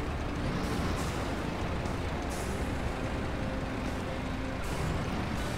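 A heavy truck engine drones and strains through mud in the off-road game Snowrunner, a loud continuous roar that shifts its pitch slightly as it downshifts, with no talking.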